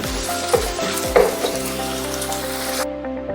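Garlic and ginger paste frying with onions in a pan of hot oil, a steady close sizzle with a couple of sharp crackling bursts, the sizzle dropping lower near the end.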